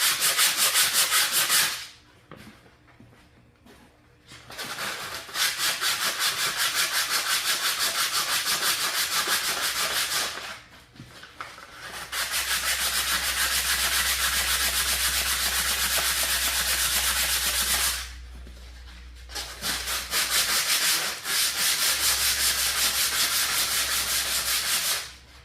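Sandpaper rubbed back and forth on a seized axle shaft of a 2007 Craftsman rear-engine rider mower, a loud continuous scratchy rasp in long bursts separated by brief pauses, with a low hum underneath.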